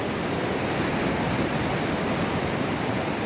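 Water waves crash and splash nearby in a constant loud wash of spray that drowns out everything else.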